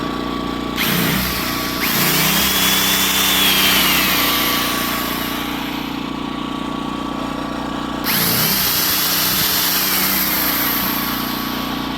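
A power drill plugged into a Loncin 2000I inverter generator whirs in two bursts, each spinning up with a rising whine and then cutting off, while the generator's engine hum shifts under the load and keeps running between them.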